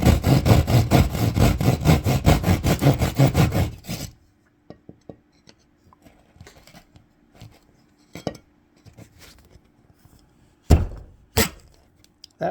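A hand saw cuts a wall hole for an old work box with about four seconds of fast, rhythmic rasping strokes, followed by quiet scattered knocks and taps.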